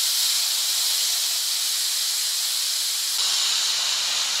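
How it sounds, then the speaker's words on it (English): Steam hisses in a loud, steady jet from the release valve of a pressure cooker, holding an even rush and lifting slightly near the end, with no talk over it. "you can just lift this little valve, and it'll release the pressure a little more quickly"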